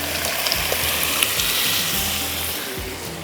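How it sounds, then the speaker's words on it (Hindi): Boiled lentils and tamarind juice poured into a hot tarka for tarka chawal set off a broad, steady sizzle and bubbling hiss close by. "अब इसके अंदर जा रही है दाल, जो उबली हुई दाल है, और इमली का रस"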